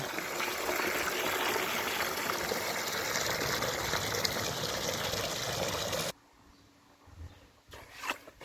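Water pours from a container to dilute pool salt for a frame swimming pool, a steady, close gush lasting about six seconds before stopping abruptly, followed by faint handling sounds.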